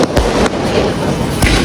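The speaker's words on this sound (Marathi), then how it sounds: "पद्धतीने फटाके येतात आपलं स्वागत केलेलं आहे." Firecrackers set off to welcome pilgrims on a Sai Baba foot pilgrimage from Nerul, Navi Mumbai: three sharp bangs, spaced irregularly, over a steady outdoor background noise.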